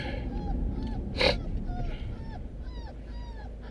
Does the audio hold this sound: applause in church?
no